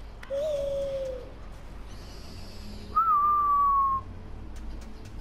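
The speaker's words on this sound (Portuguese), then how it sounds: "chamar a coruja" Owl hooting when called in Far Cry Primal, two drawn-out whistled hoots separated by a pause, clear over a low steady ambient backdrop.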